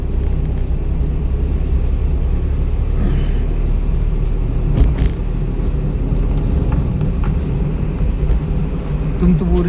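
A car engine runs steadily during a driving lesson, a loud continuous low rumble from inside the cabin with broadband road noise, a few brief knocks mid-way.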